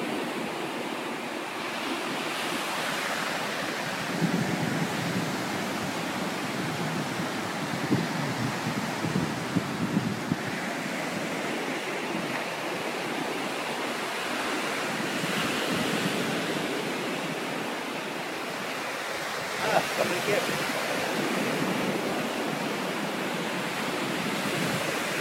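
Surf and wind at the water's edge as Hurricane Sandy approaches, a dense continuous roar of crashing waves and gusting wind, loud and steady with slow swells in intensity and no talking.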